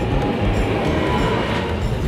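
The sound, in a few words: riding on a train in Italy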